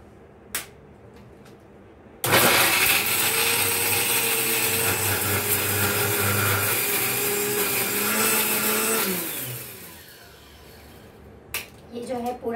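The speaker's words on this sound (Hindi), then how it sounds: "इसको हमने लगा दिया मिक्सी के जार में" A loud electric kitchen mixer grinder whirs steadily for several seconds grinding giloy (Tinospora cordifolia) herbs after a few faint clicks, then winds down, with small knocks at the end.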